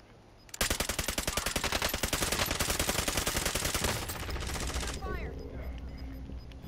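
Rapid automatic gunfire rattles loudly and continuously during a video game shootout, a dense stream of shots lasting several seconds before easing into a lower rumble with a short sweeping effect near the end.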